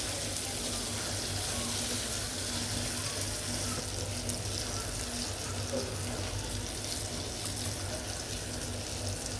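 Pieces of rohu fish fry in a pan of oil, giving a steady, dense hiss that holds at an even level throughout, close and fairly loud, with no voices.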